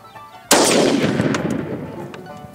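A single loud, close 30-06 rifle shot firing a Remington Core-Lokt 150 grain bullet into a 25-pound barbell plate, with an abrupt blast followed by a long rolling echo that fades slowly.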